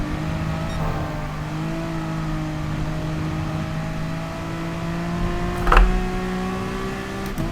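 A Gr.3 race car in Gran Turismo Sport pulls out of a chicane on a wet Spa track, its engine note rising gradually and steadily under gentle throttle, with a brief burst of noise near the end.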